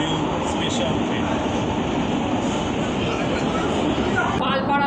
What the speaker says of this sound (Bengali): শিমুরালি স্টেশনের 1 নম্বর প্ল্যাটফর্ম স্কিপ করছে এই আমাদের এসি ইএমইউ স্পেশাল ট্রেন।